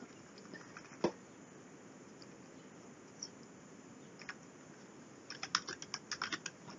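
Soft, quiet typing on a computer keyboard, scattered taps early on, then a quicker run of keystrokes near the end, with no talk over it.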